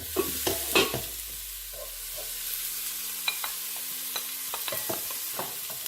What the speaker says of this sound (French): Cela fait à peu près 1 minute que ma viande est en train de saisir en fait dans mon wok.